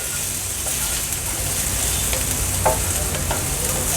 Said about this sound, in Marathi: आता गॅसची फ्लेम मीडियमवर करते आणि कांदा छान शिजवून घेते